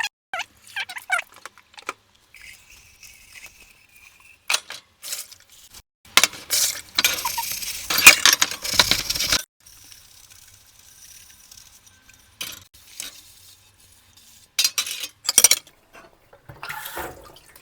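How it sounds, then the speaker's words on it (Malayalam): Dishes and pots are washed in a home kitchen in the UK: scattered clinks and clatters of crockery, bursts of running water, and quiet gaps between the splashy, rattling bursts. "കുറച്ച് പാത്രങ്ങളുണ്ട് അതൊക്കെ ഒന്ന് ഷടപടേന്ന് കഴുകിയിട്ട് സ്റ്റാർട്ട് ചെയ്യാം"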